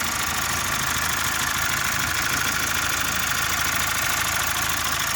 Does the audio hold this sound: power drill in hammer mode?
no